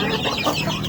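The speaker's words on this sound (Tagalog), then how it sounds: "Ito yung mga bagong sisiw natin." Native chicken chicks peep in a short, busy burst of overlapping high chirps, close to the microphone.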